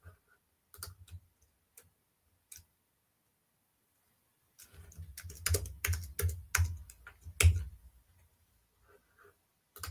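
Bursts of typing on a computer keyboard, a few scattered key clicks early on, then a denser run of quick, uneven keystrokes in the second half, close and fairly quiet.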